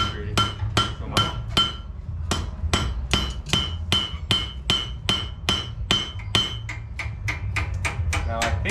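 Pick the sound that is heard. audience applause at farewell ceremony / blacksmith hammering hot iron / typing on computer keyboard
blacksmith hammering hot iron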